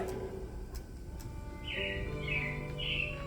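Animatronic robins chirp during the Carousel of Progress show at Magic Kingdom, a few bright repeated chirps over a steady hum of show music and room tone, fairly faint.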